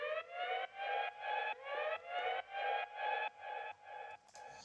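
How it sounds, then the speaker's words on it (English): A synthetic siren in an FL Studio music track wails in repeated rising sweeps, about nine even cycles with a steady pulsing rhythm, clean and electronic, ending with a brief noisy burst. "So also we have here something like a siren."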